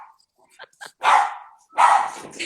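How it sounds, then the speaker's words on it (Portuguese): A dog barks twice in loud, close bursts, with a few small yips and sounds in between. "Eles não param de latir."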